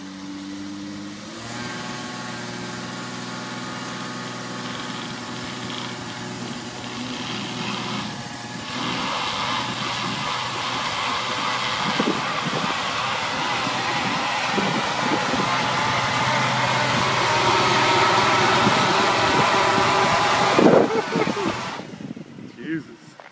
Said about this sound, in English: Gonna try and see if we can do a burnout with this thing.